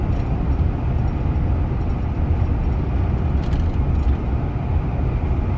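A car drives along a road through open Iowa countryside, giving a steady, continuous low rumble of engine and road noise from inside the vehicle with no talking.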